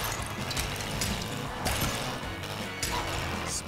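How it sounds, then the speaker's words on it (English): Bricks smashing apart in the LEGO 2K Drive racing game: dense, continuous clattering crashes and rattling plastic-like debris, with sharper impacts around the middle and near the end over a steady loud bed of game noise. "Smashing bricks is more than just fun."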